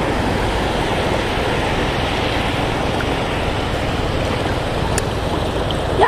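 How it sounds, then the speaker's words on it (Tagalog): Choppy sea waves wash around a small fishing boat offshore. A steady, close, broadband rush of water and wind continues without a break. "Medyo may alon."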